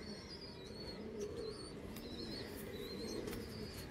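Pigeons of a bred Punjabi line coo softly in a low repeated rumble, with thin bird chirps above it and a steady faint background, no voices.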